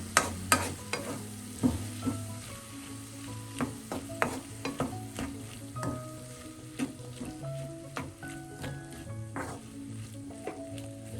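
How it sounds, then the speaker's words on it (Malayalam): Onions and squid being sautéed together in a pan for a pepper squid dish, with repeated scraping and stirring clanks of a utensil against the pan over a low, steady sizzle, fairly close, no voices. "എല്ലാം കൂടെ ചേർത്തൊന്ന് വഴറ്റും."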